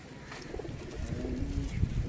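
Pigeons coo softly nearby, low throaty calls over a dull background murmur.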